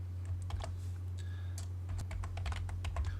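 A few quick keystrokes on a computer keyboard, typing a command into AutoCAD, with crisp close clicks in small clusters over a low steady hum, and no talk.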